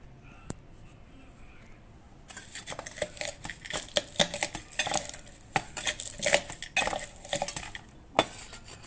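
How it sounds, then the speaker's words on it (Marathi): Roasted peanuts being crushed with a glass for Khandeshi vangyache bharit, a run of close, uneven tapping and grinding knocks against a hard surface after a quiet start, with a few clinks. "भाजलेले शेंगदाणे मी आता ह्या ग्लासने ते थोडे असे अर्धे असे असे क्रश करून घेणार आहे"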